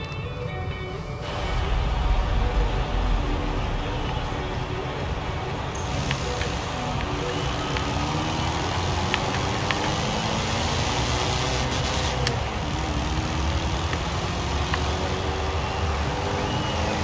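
A 1924 Austin Seven with an all-wheel-drive drift tune in Forza Horizon 4 drives around a corner, its small engine droning steadily with shifting pitch and tyre noise throughout.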